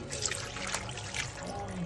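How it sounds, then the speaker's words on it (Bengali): Water is poured into a cooking pot of spiced, oiled beef trotters (nehari), giving a soft, steady trickle and splash that stays quiet and continuous with no talking. "আমি এখন পানি অ্যাড করে নিচ্ছি"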